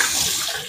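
Half a cup of water for a fried cherry empanada dough is poured in a short, steady splashing stream, close and fairly loud, heard alone with no talking.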